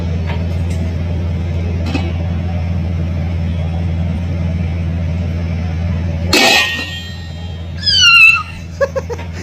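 A person imitates a cat with a few short, high meows near the end, over a steady low rumble of a running vehicle or motor.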